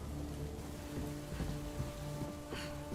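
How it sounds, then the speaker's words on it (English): Steady rain falling in a video game scene, a dense soft patter with scattered droplet ticks over a low background hum, with no talk over it. "It's raining."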